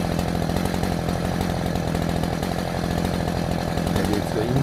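A chainsaw runs steadily and loudly through garden tree trimming, its engine note holding constant with rhythmic pulsing throughout, while faint voices come and go underneath.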